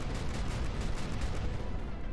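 Dense, rapid booming bursts of cannon fire in the video game Final Theory overlap in a continuous barrage, rumbling loudly with no voices.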